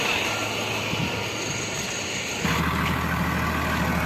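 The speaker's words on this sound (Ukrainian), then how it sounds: "такі потужні тракторчики." A powerful tractor engine runs in a steady, loud drone that fills the clip, its tone shifting slightly partway through, with no voices.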